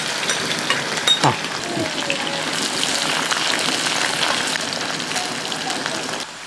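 Bitter gourd slices deep-frying in hot oil in a second batch, a steady loud sizzle and bubbling hiss running throughout with a couple of brief clinks of a spoon near the start.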